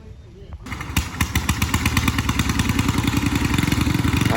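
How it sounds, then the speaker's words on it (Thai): A rail track inspection car's engine starts up, then idles and runs with a steady rapid clattering beat that grows slightly louder, close by. "ติดเครื่องแล้วนะครับ รถรถตรวจทางนะครับ"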